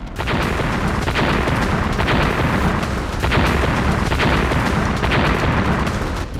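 Missile strikes in war footage between Iran and Israel give a run of heavy booms and blasts, loud and continuous, with repeated deep thumps rolling over one another through a rumbling background.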